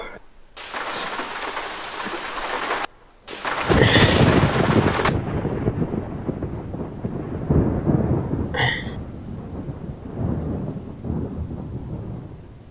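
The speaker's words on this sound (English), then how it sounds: "I'm not able to hear the rain, but I can hear the thunder." Thunder and rain in Euro Truck Simulator, a truck-driving game: loud bursts of rumbling thunder crash in over steady rain hiss, with a brief gap between claps, then a softer continuing rumble under the rain.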